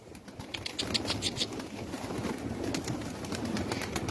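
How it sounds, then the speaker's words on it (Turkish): A pigeon coos in soft repeated phrases against outdoor background noise, with a brief flutter of wings. "Nerede bu kuş? Göremiyoruz ki."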